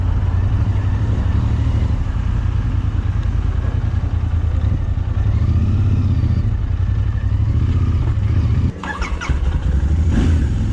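A Royal Enfield Continental GT 650 motorcycle rides along a road, its twin engine droning loudly and steadily with wind rush, then briefly dipping as the rider shifts gear before the engine note picks back up.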